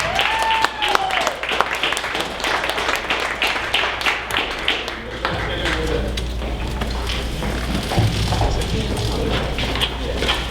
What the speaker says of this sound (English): So please everybody stand up and give him a big warm round of applause.